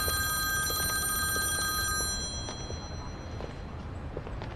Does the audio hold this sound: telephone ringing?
yes